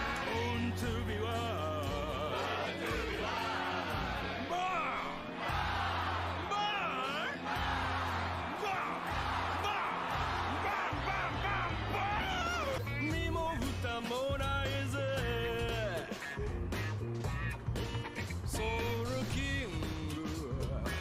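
A big crowd cheers and whoops at Brook's concert in the One Piece anime, loud and continuous, blended with music and character voices throughout.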